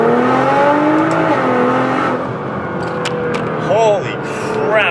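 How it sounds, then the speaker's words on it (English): A Nissan GT-R pulls hard from a rolling launch-control start with rising harmonics, shifting into second and revving higher near the end, with people talking over it throughout. "watch how quick second gear is in this car using rolling launch control"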